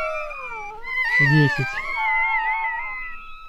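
Newborn Rottweiler puppies from a litter of ten whimper and cry in thin, wavering, kitten-like whines, close and continuous, while a voice briefly speaks over them.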